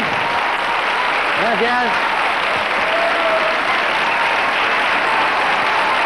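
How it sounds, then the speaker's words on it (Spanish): Studio audience and guests on a Spanish TV game show break into steady, loud applause; a voice briefly says a word of thanks over the clapping, which continues unbroken. "recibe ahí el aplauso de nuestros invitados y del público"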